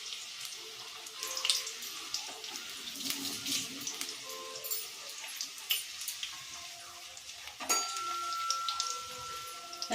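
Jackfruit pakora frying in oil on a low flame gives a steady soft sizzle and crackle with little pops throughout, moderately close, and no one talks.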